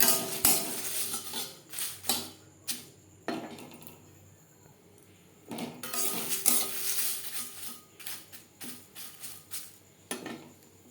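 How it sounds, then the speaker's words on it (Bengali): Bay leaves crackle in a hot wok after the gas flame is turned off, with faint sizzling under repeated sharp clinks and scrapes of a utensil against the pan, quiet between the knocks. "কড়াইয়ের যা গরম আছে তাতেই তেজপাতা বেশ ভালো করে ভাজা হয়ে যাবে"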